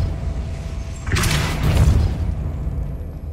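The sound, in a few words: Depulso spell cast in Hogwarts Legacy video game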